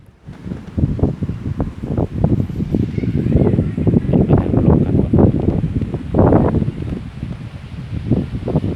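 Strong wind gusts across the hilltop temple grounds of Wat Phu Ram in Ban Daen Savan, buffeting the microphone in loud, irregular rumbling bursts that rise and fall without pause, with no voices heard.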